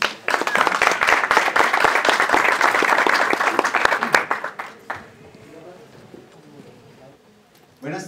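Enthusiastic applause from a forum audience welcoming a panelist fills the first few seconds, then fades to scattered claps and quiet room noise before a voice begins.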